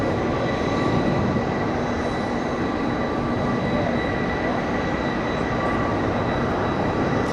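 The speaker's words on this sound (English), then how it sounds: "KLM number 2 to land in the south side." A KLM airliner lands at Los Angeles airport, a steady and loud broadband roar of jet engines and rushing air holding evenly throughout, with no voices heard.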